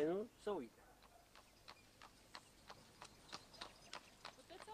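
Horses' hooves clip-clop in a slow, steady rhythm on a village road, fairly faint and distant, after a brief burst of speech at the start.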